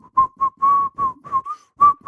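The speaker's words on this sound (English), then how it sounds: "I'm whistling and walking and all that." A person whistles a bouncy tune while walking, in short melodic phrases broken by brief pauses, close and clear with no talk over it.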